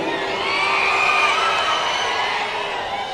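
A large crowd at a 2024 political speech rally shouts and cheers continuously, a dense, loud roar with whoops rising through it, steady for the whole span.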